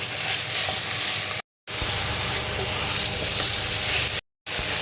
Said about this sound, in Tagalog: Ilalagay na natin yung ating ground pork.